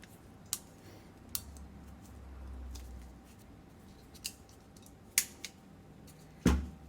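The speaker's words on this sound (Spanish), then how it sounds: "Y ahora con la crimpadora le metemos ahí fuerte." A few sharp metallic clicks and snaps spaced across a quiet room, ending in a firmer squeeze-and-snap of a crimping tool closing on a terminal, during installation of a motorcycle battery disconnect switch.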